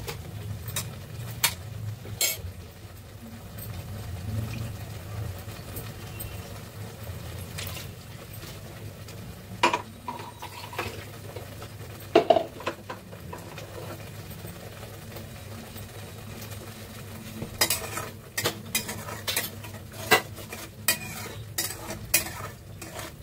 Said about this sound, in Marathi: तर मसाला ना आपण मस्त असं भाजून घेऊया तेल सुटेपर्यंत.